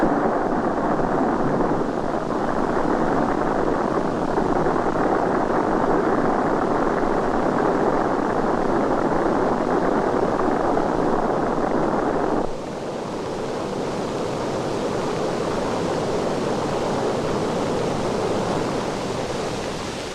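Static test firing of the Apollo lunar module descent engine: a loud, steady broadband roar held for about twelve seconds, then dropping slightly in level and continuing as a softer, even rush to the end.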